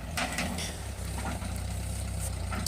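An antique Ford 8N farm tractor, built between 1948 and 1952, idles steadily with a low, even engine rumble. It sounds faint and somewhat distant during log skidding near a creek.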